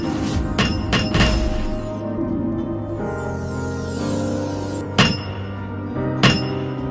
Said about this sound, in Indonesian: Terlihat Tang Hao mengeluarkan martial soul-nya saat dia menimpa besi itu